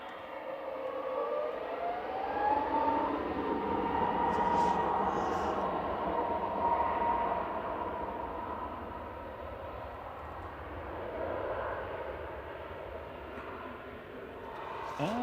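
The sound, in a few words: Logan Air ATR 72-600 propeller plane arriving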